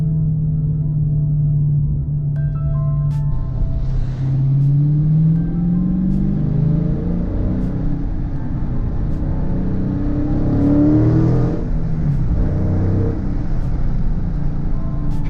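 A 2018 Dodge Challenger R/T Scat Pack V8 engine rumbles and revs continuously, its pitch sweeping up and down in throaty surges, loud and close, with no one talking.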